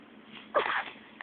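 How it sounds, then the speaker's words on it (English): A small child sneezes once, a short sharp burst that is close and clear against quiet background noise. "Woo! Sneezies."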